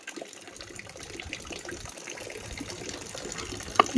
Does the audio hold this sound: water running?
yes